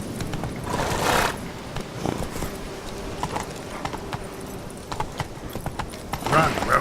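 Hoofbeats of Roach, Geralt's horse in The Witcher 3: Wild Hunt, clopping steadily at a run under in-game noise and a spoken voice, with a few louder bursts near the start and end.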